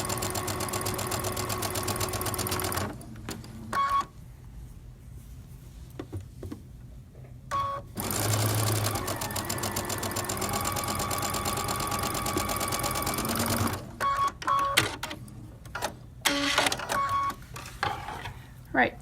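Sewing machine stitching quilt block squares runs in long steady bursts, whirring loud and close, broken by pauses where quiet talk and small clicks come through.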